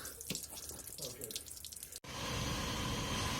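Coolant runs from an MGF cooling system being bled during a timing belt and water pump job, first as scattered drips and then a steady, loud pouring stream that fills the second half.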